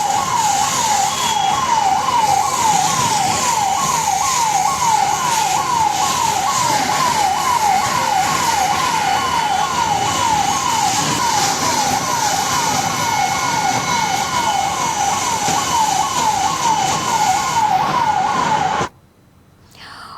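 A fire brigade engine's siren wails in a steady, repeating rise-and-fall cycle, loud and continuous for most of the stretch before cutting off abruptly near the end.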